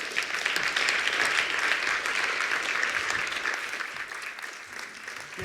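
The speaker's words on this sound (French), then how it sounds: "Je vous demande de faire un tonnerre d'applaudissements pour Sophia Demeyer." Audience applause at an evening launch event for a hub, a steady, loud wash of many hands clapping from the crowd that holds for several seconds and eases slightly toward the end.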